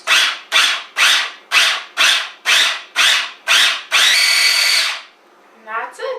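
A food processor chops chickpeas for hummus in nine short, loud pulses, then runs continuously for about a second before stopping.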